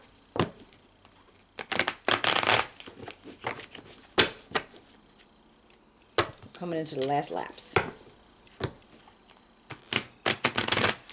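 Tarot cards are shuffled by hand, with bursts of riffling and slapping of worn, dog-eared cards in uneven clusters, while a voice speaks briefly partway through.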